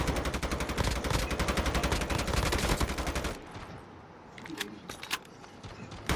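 Rapid automatic gunfire from a Call of Duty Mobile match rattles loudly for about three seconds, then gives way to quieter scattered shots and clicks.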